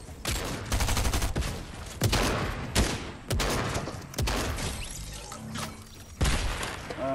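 Rapid bursts of gunfire ring out in the Fortnite video game, loud and close, several sustained volleys separated by sharp onsets and brief pauses, with no voice over them.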